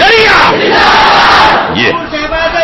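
A large crowd at a religious gathering shouts a slogan in unison, a loud, close, sustained roar of many voices that swells and then breaks into scattered shouts.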